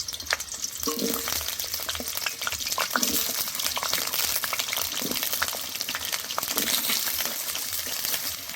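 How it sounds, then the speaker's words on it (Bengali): Potatoes frying in hot oil in a wok for a Kashmiri-style cabbage dish: a steady close sizzle and crackle, with a spatula scraping and clinking against the pan every couple of seconds. "তেল গরম হয়ে গেছে, এবার দিয়ে দেব আলু। আলুগুলো ভালো করে ভেজে নেব।"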